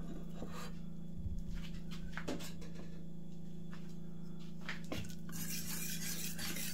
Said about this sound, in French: On remue avec le fouet.